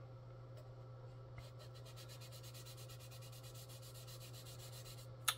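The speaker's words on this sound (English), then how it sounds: "we'll just sand along the mold or the body line" Sandpaper rubbed along the body line of a car panel during paint preparation, producing faint, steady back-and-forth strokes over a constant low electrical hum, with one sharp tap near the end.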